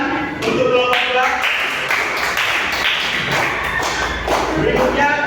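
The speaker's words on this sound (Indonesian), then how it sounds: "tepuk tangan untuk kelompok 2" Classroom applause for a student group, dense continuous clapping from many hands filling the room, steady and fairly loud throughout.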